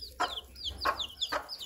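A broody hen clucks to call her chicks, three distinct low clucks at a steady spaced rhythm, close by over faint background noise.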